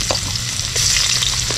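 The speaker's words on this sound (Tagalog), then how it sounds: "Ngayon mga karabas, gisa tayo ng sibuyas." Chopped onions sauté in a hot pan, giving a loud, close, steady sizzle and crackle that brightens partway through, with no talking.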